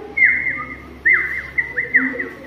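A magpie-robin (murai) sings clear, whistled phrases, a few bright sliding notes in short bursts heard alone against a quiet room hum.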